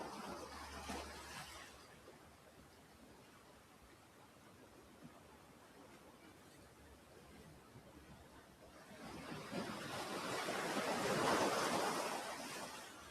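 Ocean waves break faintly on a beach in a soft, steady wash, and the surf swells louder toward the end.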